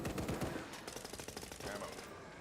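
Submachine gun fire in the Call of Duty Blackout video game, a rapid rattling burst of closely spaced shots held for the whole moment, fairly loud and near.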